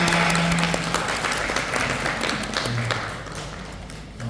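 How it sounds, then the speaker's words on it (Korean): An audience at a couples' parenting class claps in thanks to a professor after a lecture, a full, steady round of applause that slowly softens toward the end. "우리 열강 해주신 김소명 교수님께 다시 한번 감사의 박수 드립니다"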